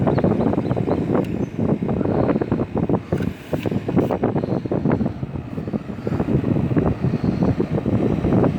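An 8000 BTU GE Fashionaire window air conditioner runs on its high setting, giving a loud, continuous rushing fan hum with a slightly fluttering airflow texture throughout and no talking.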